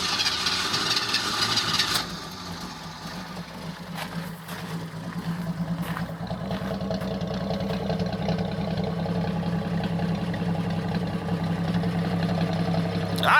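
A 1978 AMC Pacer's 4.2-litre straight-six with automatic gearbox starting up and settling into a steady low idle rumble, heard nearby and alone after a few initial clicks and knocks.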